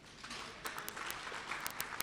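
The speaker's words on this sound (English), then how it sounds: "I think that deserves a hand of applause." An audience applauds at a community colleges infrastructure programme launch, a steady wash of clapping with sharper individual claps standing out, fairly distant and moderately loud.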